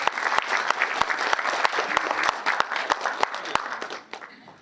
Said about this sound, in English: let's give a round of applause for Erik.